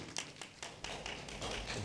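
Brief, faint applause at a city council committee meeting, a sparse scattering of claps from a small room that thickens slightly toward the end.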